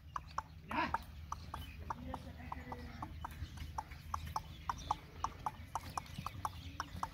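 A mare dancing on the spot, her hooves clip-clopping in a steady, fairly close rhythm of sharp knocks, with chickens clucking faintly in the background.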